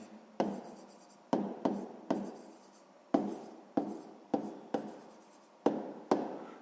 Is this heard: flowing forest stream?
no